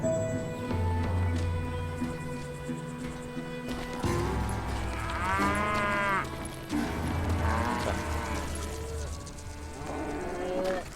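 Cows moo repeatedly in the Call of Juarez Gunslinger video game, long drawn-out lowing calls overlapping on a steady farmyard ambience, fairly close and continuous across the scene.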